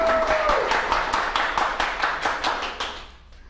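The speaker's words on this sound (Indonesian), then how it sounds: "Tepuk tangan dulu dong buat Kak Jo." Live audience at a festival gala premiere claps in a quick, roughly even rhythm of distinct hand claps, fairly close and loud, thinning and fading out over the last half second.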